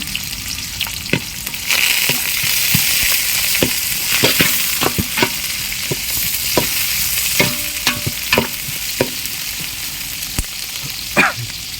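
Coriander and green chillies sautéing in a pan for a village-style chicken kulambu: a loud, continuous sizzle with irregular scraping knocks from a spoon stirring, close up with no voice.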